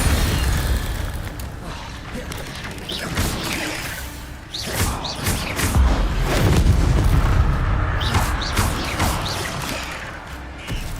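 Fire spells cast again and again in a Hogwarts Legacy fight against spiders, each giving a whooshing burst and a booming impact over a dense, rumbling game soundscape, fairly loud and close, with no talk.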